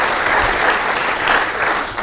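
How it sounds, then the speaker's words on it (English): Meeting attendees give the mayor a round of applause, with sustained, fairly loud crowd clapping that swells slightly in places but stays continuous throughout. "I want us all to give him a round of applause for all he does."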